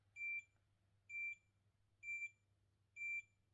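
An automatic hair curler beeps four times at a steady pace of about one per second, each tone short and clear over a quiet background hum.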